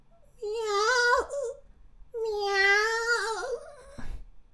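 A person imitates a cat with two long, wavering meows, drawn-out and whiny, close and clear with a short pause between.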